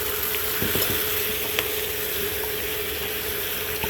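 Washed raw spinach sizzling as it cooks down in a pan for Tuscan chicken, a steady crackling fry with a few faint clicks and stirring sounds, no voices.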